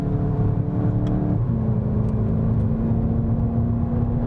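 Volkswagen Jetta GLI with turbo engine at full throttle on the Interlagos circuit, a loud steady engine drone that shifts pitch partway through, constant and close with no talk.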